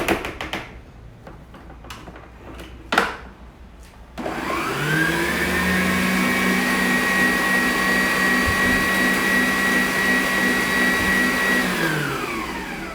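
An electric mixer beats creamy cheesecake filling in a bowl. A few light knocks and handling clicks come first, then the motor starts with a loud, steady whirring drone that runs for about eight seconds before spinning down, with no talking.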